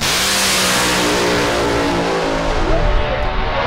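A drag racing car at a Boise dragstrip roars at full throttle in a dense, loud, continuous engine blare that holds steady before easing slightly near the end, with a commentator talking over it.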